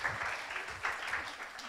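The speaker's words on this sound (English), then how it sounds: "So let us give our speakers a very, very big abot sa space round of applause." Listeners at a Philippine space technology symposium give the speakers a round of applause, a soft, fairly distant wash of clapping holding at an even level through the short stretch.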